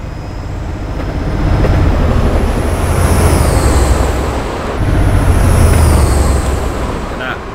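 A freight train rolls past in the Train Simulator 2018 game, a loud continuous rumbling roar with high whining tones that swell twice, running steadily throughout.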